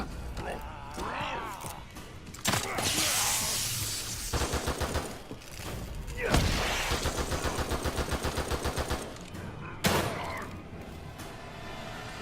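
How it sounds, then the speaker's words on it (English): Shock bolts fire repeatedly in The Evil Within 2 amid a noisy combat scene, with loud sharp bursts and rapid crackling electrical pulses in several clusters over about twelve seconds. "And this is where I like to use the shock bolts."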